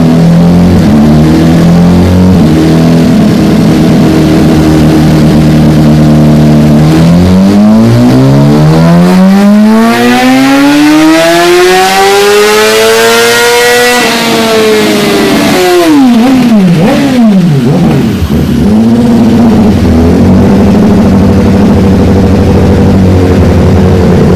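A 2018 BMW S1000RR on a dynamometer, running MR12 racing fuel, roars very loud and close as its engine climbs through the revs in a full pull, drops back, then rises briefly again with no talking.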